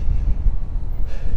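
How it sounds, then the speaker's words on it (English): Wind blowing outdoors in New York City, a rough low buffeting rumble across the microphone, loud and continuous with no talk. "It's still a little bit windy out."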